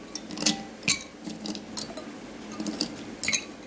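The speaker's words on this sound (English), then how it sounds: "First I am going to add the ice cubes into it." Ice cubes dropped into glasses of mint lemonade, a series of sharp glassy clinks and knocks at irregular intervals, close and fairly loud, with faint kitchen handling between them.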